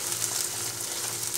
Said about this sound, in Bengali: আদা বাটা দিয়ে এটাকে ভাজতে হবে।